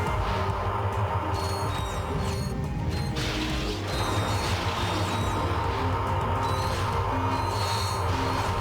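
Mechanical ratcheting and clanking of a bolt crank being turned with a wrench in Ratchet and Clank 3, a dense continuous metallic grinding with sharp clanks, loud and steady throughout.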